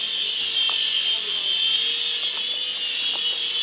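A helicopter near a heliport on a windy day: a steady whirring drone with a hiss that holds at an even level throughout, with faint background sounds underneath.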